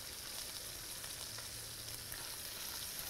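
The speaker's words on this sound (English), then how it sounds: "I'm flipping it back over because this side is getting a little more color that I wanted" Meat that has just been flipped in a pan sizzles and fries with a steady, hissing crackle that stays even throughout, with no talking.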